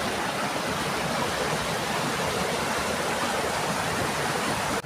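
A clear mountain river rushes past a hut at the edge of a village on a mountainside, a steady broadband wash of flowing water that holds constant and close throughout.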